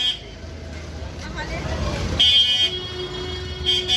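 A bus horn honks in busy street traffic near Puri, a sharp tonal blast cutting in midway and recurring near the end over road rumble and engine noise, with people talking nearby.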